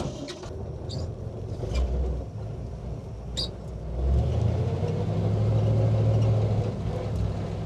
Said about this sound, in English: I like that exhaust. It's just loud enough to let you know it's there.